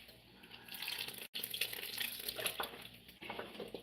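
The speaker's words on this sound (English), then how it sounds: "I added hot water, so it's gonna be very fast to boil." Hot water pours into a pot of okra soup in a home kitchen, a soft, steady splashing and trickling stream with brief interruptions, fairly faint and close.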